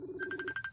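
A telephone ringback tone plays on a call being placed, a steady tone followed by a quick series of about six short repeated pulses, faint and close, with no talk over it.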